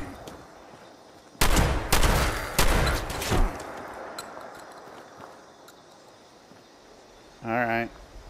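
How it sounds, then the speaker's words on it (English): Gunfire in the Fallout 76 video game, a burst of several loud, sharp shots in quick succession over about two seconds, then fading ambience and a short tonal game sound near the end. "shotgun is not doing a lot right now"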